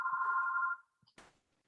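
A single electronic telephone ring tone lasting under a second during an interview, clear and close, followed by a few faint clicks and a short rustle.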